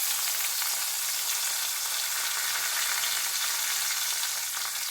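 Onions, green chilies and curry leaves frying in a pan for a diet tomato curry, giving a steady, dense sizzle that holds evenly throughout, close and unbroken with no talking.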